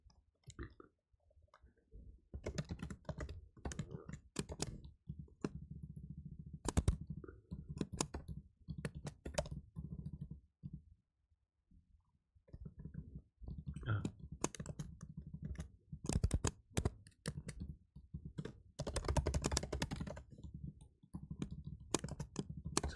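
A computer keyboard clatters in uneven bursts of typing while someone writes code, quiet and close, with pauses and a short lull midway, and soft talking mixed in.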